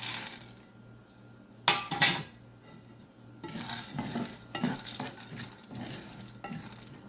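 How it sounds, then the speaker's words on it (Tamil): Cut cashews roasting in ghee in a small pan, with a faint sizzle under repeated metal clinks and scrapes of a spoon stirring them, close and irregular. "அடுத்ததாக வெட்டி வச்சிருக்கிற கஜுவை நெய்யில் போட்டு வறுத்தெடுப்போம்"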